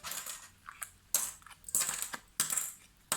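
Metal binder clips come off the lid of a handmade box for storing Dymo label rolls in several sharp clicks and snaps, each followed by a short scrape, close up with no talk.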